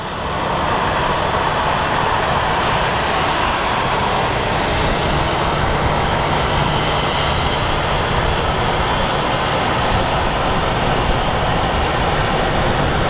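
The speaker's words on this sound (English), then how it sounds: "So the 737 MAX that is about to get on the line is headed to" Loud, constant roar of a Boeing 737 MAX jet airliner at Phoenix Sky Harbor International Airport, a dense broadband engine rumble held steady and close without any talk.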